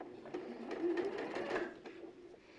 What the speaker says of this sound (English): Now when I'm sewing across that point, I'm aiming for the centre of the cross of where my seams match.